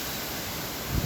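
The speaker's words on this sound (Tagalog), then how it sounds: "lakas ng hangin" Strong wind blows steadily across the microphone among eucalyptus trees, a continuous broadband rush with a slightly louder buffet near the end, no voices.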